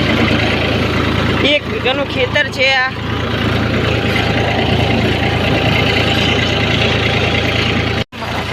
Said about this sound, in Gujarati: હવે ટ્રેક્ટરને વટું વારવામાં આવશે